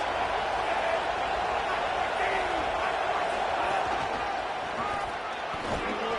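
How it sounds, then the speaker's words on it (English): Loud college football stadium crowd at a Big Ten matchup, a dense continuous roar swelling against the offense, with a commentator's voice running over it throughout. "This crowd trying to make life miserable for this offense."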